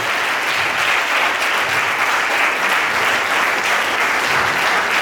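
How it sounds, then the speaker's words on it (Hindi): A church congregation claps in thanks, a dense, steady wash of many hands applauding loudly and continuously with no voices standing out. "क्या धन्यवाद की ताली देके समाप्त होगा।"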